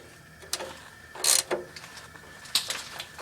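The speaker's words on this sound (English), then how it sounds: "use your wrench to tighten it back down" A wrench tightening an oil drain plug during an oil change: a few short metallic clicks and ratcheting scrapes, close and sharp, spread out with pauses between them and no talking.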